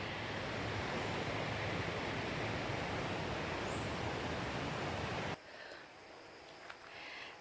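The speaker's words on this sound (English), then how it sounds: "This is the Wang Sao Thong Waterfall" Wang Sao Thong Waterfall on Koh Samui, Thailand, gives a steady, loud, close rushing roar of falling water that cuts abruptly to a much quieter, thinner hiss near the end, with no voices.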